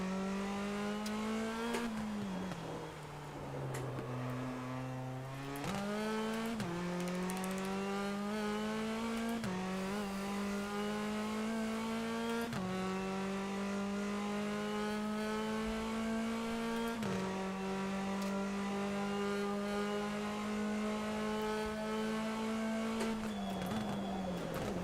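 Touring race cars in a racing video game, engines droning loud and steady with repeated upshifts and brief lifts, continuous engine whine throughout with no talk.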